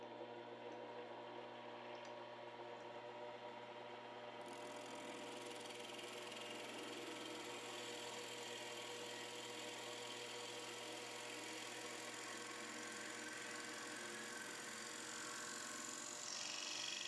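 A power drill whirs continuously, a faint, steady mechanical hum with a constant tone that runs without pause for the whole stretch.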